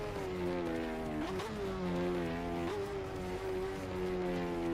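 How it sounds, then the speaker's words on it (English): A Kawasaki motorcycle engine in a motorcycle racing video game drones harshly at high revs, its steady tone dipping briefly twice as gears shift, loud and continuous with no talk. "Kawasaki sounds so harsh."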